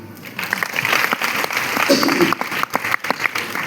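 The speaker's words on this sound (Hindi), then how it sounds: "बाइक, बहुत बड़ी जोरदार तालियां" Applause from an audience in a hall during a speech, a dense patter of hands that swells and holds steady, with a few louder individual claps standing out near the end.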